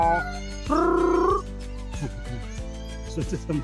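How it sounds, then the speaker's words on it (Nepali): A jungle cat at Banbatika Park gives one clear, drawn-out wavering meow up close, followed by quieter scattered calls and a low background hum. "वन बिरालो यहाँ छ वन बिरालो खै"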